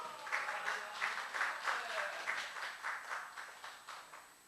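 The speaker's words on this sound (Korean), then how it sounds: "박수." A small group at a Sunday worship service claps briefly, faint and somewhat distant, a soft steady patter of hands in an even rhythm.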